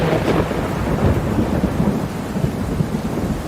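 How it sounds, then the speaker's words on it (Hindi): Heavy rain pours down steadily, with a dense hiss and low rumbling gusts of wind throughout. "एक दिन जंगल में बहुत बारिश होने लगी और तेज हवाएं चलने लगी।"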